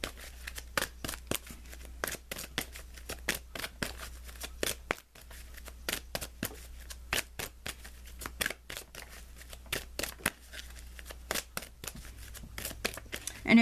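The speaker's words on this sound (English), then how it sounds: "Let's pull you an additional guidance card" Tarot cards being shuffled by hand, a steady run of sharp papery riffles and snaps that repeat rapidly for the whole stretch at close range, with no talking.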